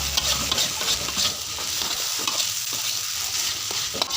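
Fried rice with sweet soy sauce is stirred in a hot pan, a steady sizzle and frying hiss running throughout with repeated scraping and clinking stir strokes, close and fairly loud.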